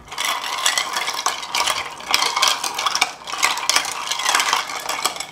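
A spoon stirring a Tom Collins cocktail over ice, with quick repeated clinks and rattles of ice against the glass, close and steady.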